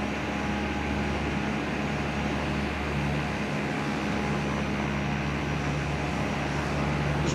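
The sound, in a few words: noisy airplane in flight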